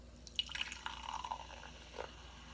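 Sparkling water poured into a glass for a lemon volcano experiment, giving a close, quiet fizzing pour with scattered small drips and splashes over a few seconds.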